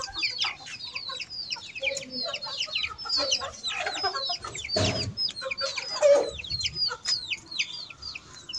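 A broody hen clucks repeatedly in short bursts among other farmyard bird calls, fairly close, with a rooster-like call and some background noise.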